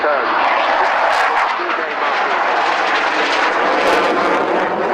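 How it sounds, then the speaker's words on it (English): Two propeller aircraft, one compared against a Spitfire, sweep round in a hard left-hand turn at the Cosford Air Show, their engines a loud, steady roar that fills the whole stretch with slight swells. "pulling the two aircraft round into a hard left-hand"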